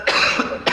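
A single person gives a short, sharp cough burst followed by a second one, close and clear.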